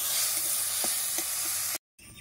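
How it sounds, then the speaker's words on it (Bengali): Gobindobhog rice fries in ghee in a pan for khichuri, giving a loud, steady close-up sizzle with a few soft stirring clicks before it cuts off abruptly. "তার জন্য একটু ঘি দিয়ে ভেজে নেব"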